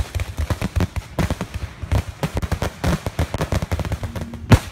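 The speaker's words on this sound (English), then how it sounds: "Every time he flips a switch, a firework shoots into the air." A close fireworks show at Peachtree City crackles and pops in a dense, rapid barrage of loud bangs and firecracker bursts, with one especially sharp blast near the end.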